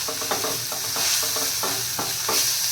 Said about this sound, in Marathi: आता सर्व टाकल्यानंतर आपण हे छान मिक्स करून घेऊया।